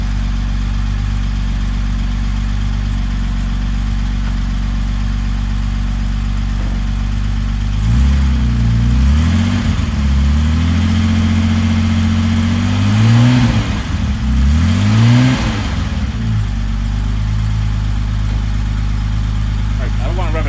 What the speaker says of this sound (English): I'll rev the accelerator a little bit.